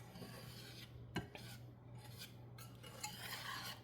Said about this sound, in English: you're cooking this flour, coating the flour with oil, and stirring it on the fire until it browns